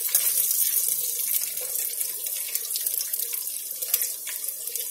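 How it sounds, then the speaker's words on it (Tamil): Urad dal, curry leaves and mustard seeds fry in hot oil for amla rice, a steady, bright crackling sizzle with small pops throughout, close and moderately loud, with no one talking. "இது பொரியட்டும்."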